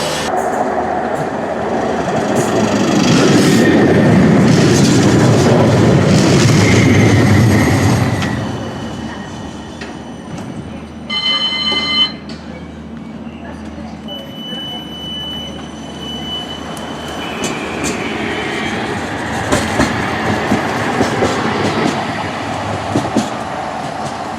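A West Midlands Metro tram rumbles loudly through Jewellery Quarter station, then fades; later a brief high squeal and scattered clanks, with steady ambient station noise throughout.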